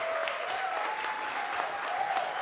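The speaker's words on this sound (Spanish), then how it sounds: "¡Fuerte el aplauso!" Steady applause from a comedy show audience, a continuous even wash of clapping at moderate level with a faint sustained tone running underneath.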